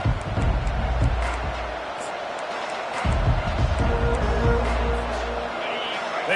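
A large football stadium crowd at an LSU versus Texas game roars and cheers steadily, loud and continuous, with swells of noise and a commentator's voice over the top.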